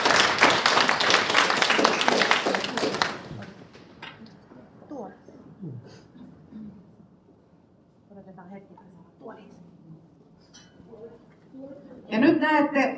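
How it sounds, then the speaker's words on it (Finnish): Theatre audience bursts into dense applause for about three seconds, then it breaks off and a voice speaks over a quiet room, with a short loud flurry of sound near the end. "Voi antaa aplodit jo tässä vaiheessa."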